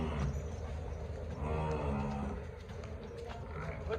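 Buffalo at a dairy farm in Bhoma village near Amritsar give low, drawn-out lowing calls over a steady wash of farmyard noise, with no talking.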